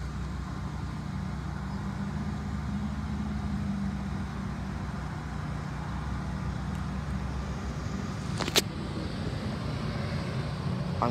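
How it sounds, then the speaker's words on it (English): An old ice cream truck engine idles nearby in a low steady rumble with a faint hum, broken by a brief sharp click toward the end. "This is our old ice cream truck, and it's finally back."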